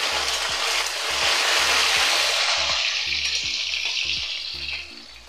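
Boiled taro and potatoes dropped into hot oil with cumin seeds and bay leaf set off a loud, dense sizzle that swells then gradually fades, with soft background music underneath.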